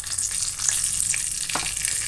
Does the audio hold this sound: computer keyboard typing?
no